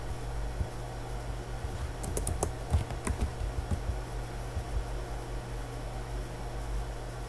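Typing on a computer keyboard comes as a short run of light, quick key clicks in the middle, faint and close over a steady low electrical hum.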